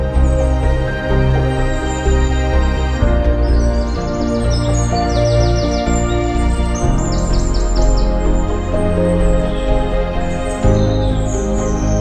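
Birds chirp and call repeatedly in Kaziranga National Park, the bright tweets rising over a steady, loud bed of layered documentary music that runs throughout.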